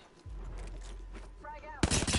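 Video game gunfire, a short burst of loud shots near the end after a low rumbling lead-in.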